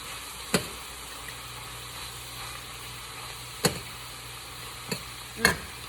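Stir-fry vegetables with garlic are stirred in a pan, a quiet low sizzle broken by four sharp utensil knocks and scrapes spaced out over several seconds, nearby and without speech.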